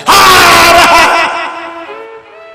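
A voice imitates the loud, forceful shout of a Hindu holy man, a sadhu: one very loud, sustained cry that tapers off over about two seconds.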